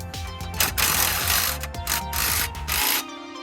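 A ratchet tightens the bolt on a Bilstein 5100 rear shock absorber on a 2018 Chevy Silverado 2500, giving rapid, close metallic clicking in several quick strokes.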